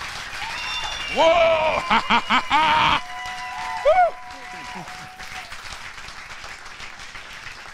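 A church congregation at a French-language service applauds and cheers for Jesus, a burst of clapping and shouts that swells for a couple of seconds then gives way to a preacher's amplified voice and a shouted exclamation.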